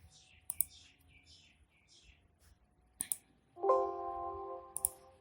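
A few sharp, isolated computer mouse clicks sound while someone works in SolidWorks. They are spaced out and quiet, with soft speech and a brief electronic tone in between.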